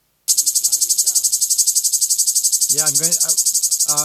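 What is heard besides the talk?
loud cicada chirping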